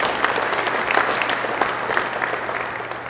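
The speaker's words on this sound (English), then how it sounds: "Let's give a nice round of applause to Tony Carr from Roman Catholic" A banquet crowd at a Pennsylvania basketball awards event gives a steady round of close, dense clapping for Tony Carr of Roman Catholic, sustained throughout the short stretch.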